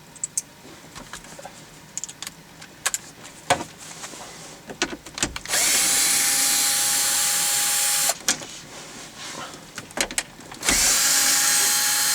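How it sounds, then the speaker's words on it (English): A power drill backs out fasteners on a car's interior panel: light clicks and handling noises, then two sustained whirring bursts of the motor, close and loud, with no talk. "I like to use my drill. It's a little bit faster."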